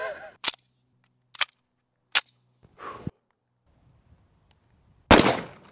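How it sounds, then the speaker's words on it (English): A Double Barrel 1911 pistol firing 230 grain rounds two at a time fires five loud, sharp reports, spaced about a second apart, each booming close by, with a longer pause before the last. "shot all 10, 2 at a time, no problem"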